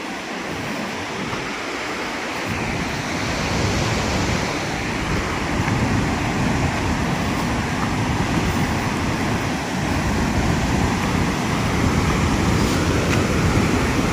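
Water released from the Mankadoh dam rushes steadily into the river, a loud continuous roar of turbulent flow with some wind buffeting the microphone.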